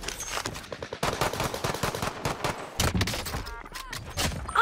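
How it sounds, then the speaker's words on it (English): Gunfire in the video game Warzone, including a sniper rifle shot amid a rapid string of loud, sharp shots and thuds, with a brief break in the middle. "I just got sniped!"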